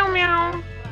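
A person imitates a cat, letting out a single short, drawn-out meow with a bending tone, close and clear.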